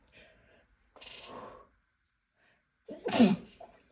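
A single loud sneeze bursts out near the end, following a few quieter rustles and a brief breathy sound earlier.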